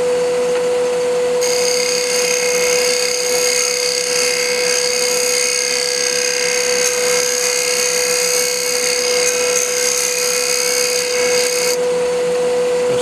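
Wood lathe turning a dense desert ironwood wine goblet, a steady motor hum with a bright, continuous scraping whine from the tool cutting the sidewalls, loud and close.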